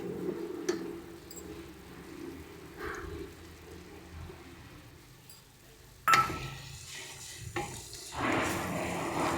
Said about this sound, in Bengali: এটাকে মিনিট 3-4 মতন ভালো করে একদম নাড়িয়ে নিতে হবে।